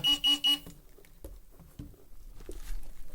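A Mars MD metal-detecting pinpointer gives three short, bright, evenly spaced beeps close by, then falls quiet except for faint handling rustles and low background noise.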